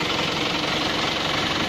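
A car engine runs steadily at idle with the radiator open during a flush, a constant dense mechanical rumble and hiss with no breaks.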